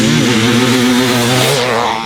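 Two-stroke 500cc motocross engine from a Kawasaki KX500 or Honda CR500 revs loud and close on a dirt track, a steady raspy drone that rises slightly in pitch and holds for about two seconds.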